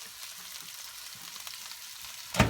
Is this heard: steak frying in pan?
yes